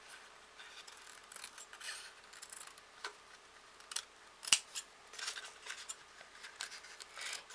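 Scissors make quiet, close snips through thin craft material while a mini egg box is trimmed for decorating. The cuts come in scattered single clicks and short rasps, with one sharper snap near the middle.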